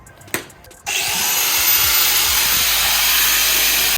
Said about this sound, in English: my little grinder takes forever to cut through this steel. And it's really loud and obnoxious